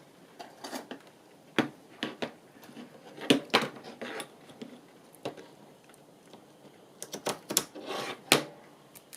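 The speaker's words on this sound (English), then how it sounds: "So I'm just going to cut that down to here." Quiet, irregular snips and clicks from scissors cutting down card for a craft masterboard piece, close by, with small bursts of rustling and tapping scattered across the stretch.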